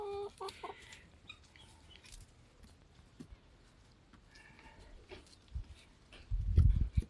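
Young turkeys about 4 to 5 months old clucking and chirping nearby in short, scattered calls, with a louder low rustle or thump near the end; no talking.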